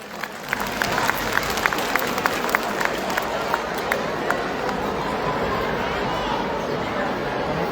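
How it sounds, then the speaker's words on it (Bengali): Loud crowd clapping greets young children coming onto a school stage, with individual claps standing out early before blending into a dense, steady applause under crowd chatter. "তাদের সবার জন্য একটি জোরে করতালি আশা করছি।"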